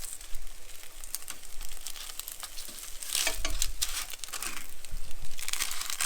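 A flipped salmon fillet sizzles loudly in an oiled pan. Crackling and spitting go on steadily throughout, with brief louder surges and no talking.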